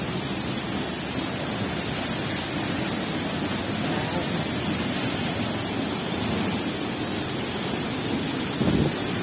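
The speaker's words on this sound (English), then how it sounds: "Water coming from the mountain." Steady rushing water flowing down a mountain in La Paz, Costa Rica, a broad continuous roar like a stream or small waterfall pouring nearby, with no pauses.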